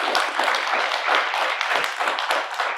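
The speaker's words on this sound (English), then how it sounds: "give him a round of applause," A small audience at an evening talk claps in a brief, lively round of applause, individual hand claps audible in a busy patter that stays fairly even before tapering.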